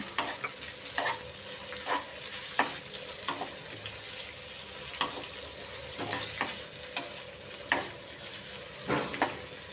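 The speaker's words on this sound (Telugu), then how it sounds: "ఆనియన్స్ కొంచెం గోల్డెన్ బ్రౌన్ వచ్చేంత వరకు వేయించుకోవాలి." Thinly sliced onions fry in a pan for aloo matar pulao, a steady sizzle broken by regular scrapes and knocks of a stirring spoon, close and moderately loud with no talking.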